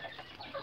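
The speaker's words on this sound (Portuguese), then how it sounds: "as galinhas entrou aqui, ó. Tá comendo a ração que cai" Chickens cluck softly while pecking at fallen feed at a quail egg farm, a brief, faint burst of close clucks with no talk.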